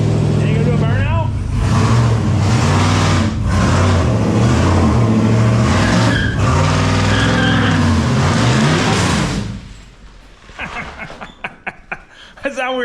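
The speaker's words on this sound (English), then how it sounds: "But hey, she did a burnout." A 1993 GMT400 Indy pace truck with a fresh untuned LS engine swap doing a burnout: loud sustained revving and tire squeal for about nine seconds, then the engine drops to a rough idle while voices talk nearby.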